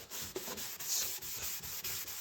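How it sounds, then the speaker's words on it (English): A plastic car headlight is wet-sanded by hand with 400 grit sandpaper, giving a close, steady rasping rub in regular back-and-forth strokes with brief breaks. "all is finished with the finest sandpaper. And this will do the job, because I use a 400 on there"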